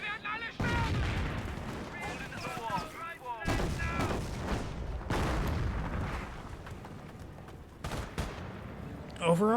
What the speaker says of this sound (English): there goes the lieutenant, bringing some officer artillery onto that structure